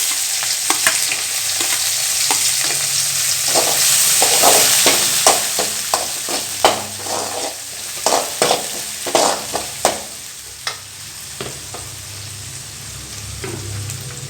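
Steady oil sizzle as shallots fry, with repeated scraping and clinking of a spoon stirring them in a pan, close and fairly loud.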